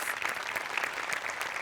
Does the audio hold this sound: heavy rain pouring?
no